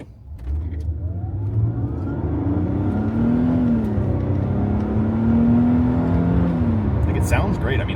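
A 1999 Mercedes-Benz CLK engine is heard from inside the car while driving. The engine hum rises and falls through gear changes in a steady, close drone, with a short clatter near the end.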